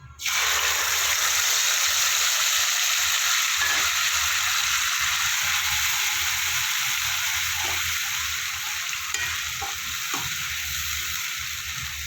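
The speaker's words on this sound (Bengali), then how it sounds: "ফোড়নটা আমার ভাজা হয়ে গেল আমি পেস্ট করা মশলাটা দিয়ে দেবো" Spice paste hits hot oil for an egg curry, bursting into a loud, sustained sizzle that holds steady with occasional stirring taps, close up and with no talking.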